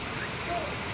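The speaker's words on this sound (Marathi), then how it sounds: "किती जोरात हेवीली रेनफॉल होत आहे." Heavy rainfall during a days-long downpour, a steady, even hiss of falling water heard faintly and continuously without breaks.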